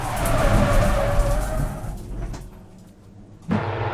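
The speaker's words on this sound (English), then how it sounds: "A squeal of tyres" Tyres squeal as a Ford Focus race car spins at Brands Hatch during an MSVR Focus Cup round, a loud broad skidding roar that fades over two seconds before engine noise returns sharply.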